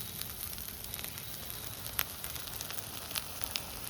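Coconut, ginger and garlic frying in a pan, a soft, low sizzle with scattered light crackles and pops, fairly quiet and close, no talk.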